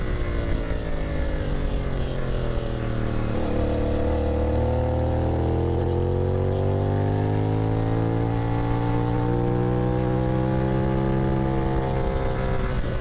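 A CFMoto 450SS motorcycle rides along a bumpy hill road, its engine droning steadily with a shifting pitch that dips and rises, mixed with constant wind rush throughout and no talking.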